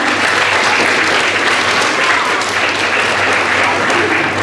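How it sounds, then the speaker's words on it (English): A loud, dense wash of applause rises at an elementary school clap-out as children and staff clap for the parents, sustained evenly throughout and close to the microphone. "give them a huge clap too"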